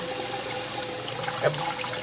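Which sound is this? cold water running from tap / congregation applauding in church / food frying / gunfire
cold water running from tap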